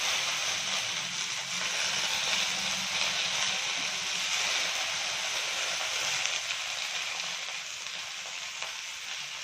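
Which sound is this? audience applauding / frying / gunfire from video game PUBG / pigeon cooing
frying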